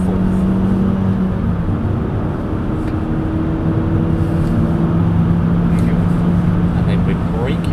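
A Mazda3 accelerating in fourth gear on the Silverstone circuit, a steady droning engine note that slowly rises under continuous road and wind noise, with a voice talking throughout.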